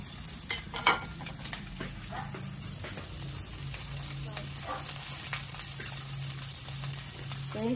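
Ginger sautés in a pan for the Filipino dish Bicol Express, giving a steady, moderately quiet sizzle and crackle. Occasional scrapes and clinks from stirring break in now and then, with no voices over it.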